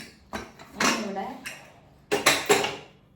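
A heavy-bottomed cooking pot is handled in a home kitchen while chicken curry is prepared, with a handful of close metallic clanks and knocks coming in two short bursts.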